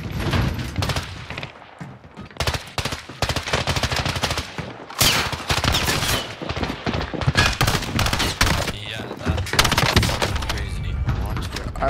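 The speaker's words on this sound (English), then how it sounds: "It's like a two-burst gun." Repeated gunfire from a two-round burst weapon in the Warzone video game, loud and close, with rapid crackling shots and bursts sounding almost nonstop over the stretch while players talk over it.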